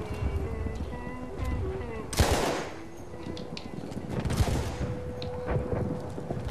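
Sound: gunfire in the video game Battlefield 1

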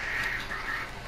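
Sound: bird in video game Far Cry 4

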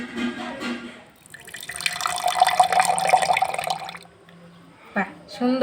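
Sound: tap water running while washing something

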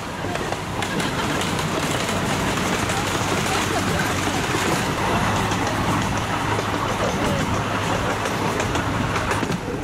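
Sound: amusement park train ride, passing another train

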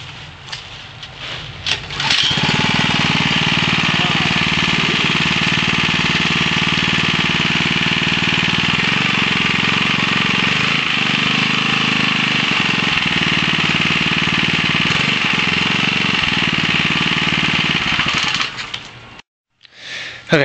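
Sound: small engine test run on homemade engine/alternator generator

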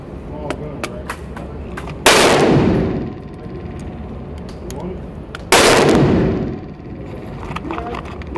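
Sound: gunshots fired with Federal ammunition

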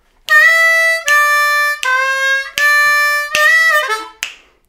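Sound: harmonica lick four, D harmonica

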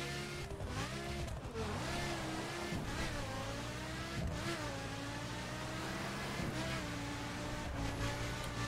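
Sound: Lamborghini Gallardo engine revving in video game The Crew

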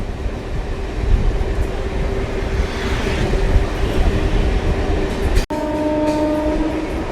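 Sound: EMU train moving slowly along the Krishnanagar–Amghata line

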